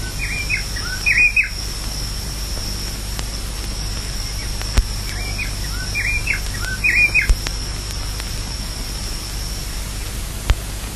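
Short, sweet bird calls at dawn in African riverine bush repeat at intervals over a steady hiss of background noise, with a faint high tone running beneath.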